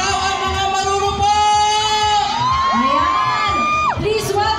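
A crowd at the PITX 5th anniversary celebration cheers, screams and shouts loudly and continuously, with high whoops and yells rising over the dense roar.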